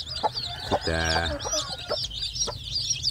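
Newly hatched free-range village chicks peep and chirp in a continuous, close, high-pitched chorus, with a brief low voice-like sound partway through.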